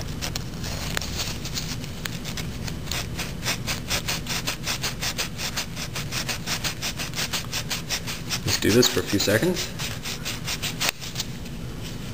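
Steady rapid rasping of a small point file scraping back and forth on engine ignition points, close up, with someone talking over it.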